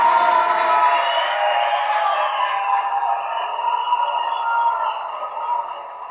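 An audience gives sustained applause and cheering for contestant number three, a dense crowd roar that holds steady and then eases slightly toward the end.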